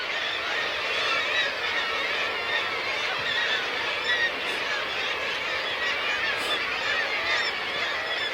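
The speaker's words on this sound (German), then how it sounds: "Dafür hat man dann aber auch die Vögel aus der Nähe" Seabirds calling at the foot of a cliff on Spitsbergen, Svalbard, with a close, dense, continuous chorus of honking and squawking voices overlapping steadily throughout.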